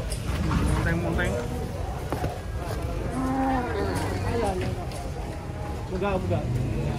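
Large cattle moo a few times amid a busy crowd, the lowing calls mixed under constant talk and general bustle.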